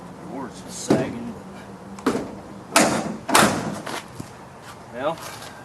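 Door of a 1970 Chevrolet Blazer with a sagging door, swung shut in a few solid thuds and bangs, close by, with quiet movement and faint voice sounds between the impacts.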